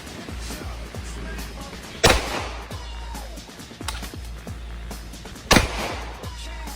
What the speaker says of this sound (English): He's just gonna draw, fire one, and then he's gonna put it back in his holster.